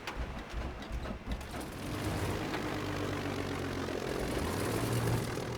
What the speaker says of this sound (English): we'll now try a front engine start